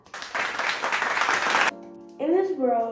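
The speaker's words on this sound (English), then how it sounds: "Let's clap." Applause, a short burst of clapping from a small group lasting about a second and a half, followed by a voice speaking with an electronic tone underneath.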